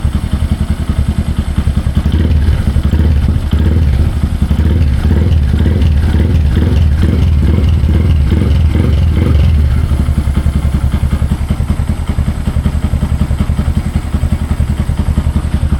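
Honda Grom motorcycle engine idles close by, loud and steady with a rapid, clattering thump that holds for the whole stretch and eases slightly in the later seconds.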